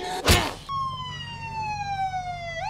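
Siren wailing in the video game State of Decay 2, a loud electronic tone that starts after a brief burst of noise, holds steady with a slow downward drift, then begins to rise again at the end.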